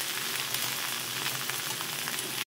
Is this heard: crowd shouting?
no